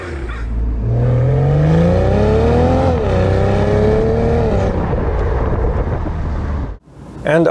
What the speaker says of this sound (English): the engine sounded pretty good in Sport Plus mode